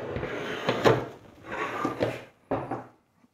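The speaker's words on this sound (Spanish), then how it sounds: "Con mucho cuidado la damos vuelta." Oven door being turned over and handled during a repair of a door that will not close: clattering knocks and scraping in three bursts, with a sharp clunk near the end before it goes quiet.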